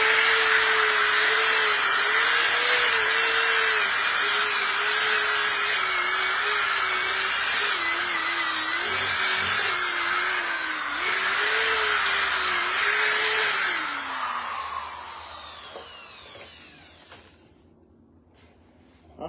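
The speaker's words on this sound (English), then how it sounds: "Get a little bit more sanding done in here." Power sander working over a build, a loud continuous whine with a wavering drone that runs for most of the time before spinning down and fading to quiet near the end.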